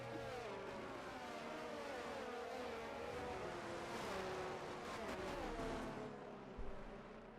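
A Formula-style race car in a Grand Prix racing video game at COTA burns out its tyres behind the safety car, its engine droning and rising and falling in pitch, steady and close, with no talking.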